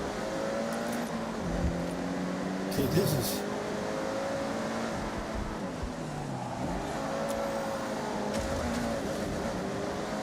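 Several car engines roar and whine in the video game Forza Horizon 6, pitches rising and falling as they rev and shift, while a person talks briefly over the racing noise.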